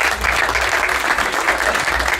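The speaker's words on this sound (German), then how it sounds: "Applaus für Mr. Fashion Week." Loud, close applause fills a stand-up comedy show as the crowd claps for a spectator, a continuous dense patter with no break.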